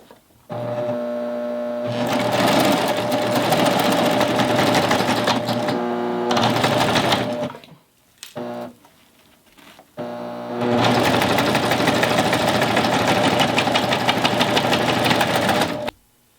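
A Baby Lock Triumph serger stitches cork fabric for a basket with loud, rapid, buzzing runs that pause briefly in the middle and then resume, with no talking.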